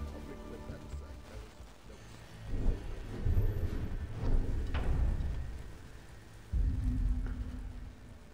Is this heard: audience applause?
no